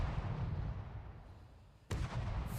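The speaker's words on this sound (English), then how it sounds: "They're just firing blind into nothing." Ship turrets firing in a naval video game battle: a low, steady rumble of distant combat broken near the end by one sudden sharp, booming gun report followed by continued heavy roar.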